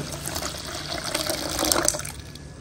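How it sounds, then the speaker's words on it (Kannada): Water poured onto about a cup of semolina (rava) to soak it makes a continuous close splashing, gurgling pour that swells slightly toward the end. "ಇವಾಗ ಇದಕ್ಕೆ ನೀರು ಹಾಕಿ ನೆನೆಸಿಟ್ಕೊಳ್ಳೋಣ"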